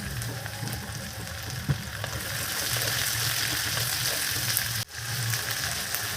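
Chopped desi tomatoes fry with salt and vegetables in a pan for a puti fish curry, a steady close sizzle with occasional stirring scrapes and a brief dip near the end.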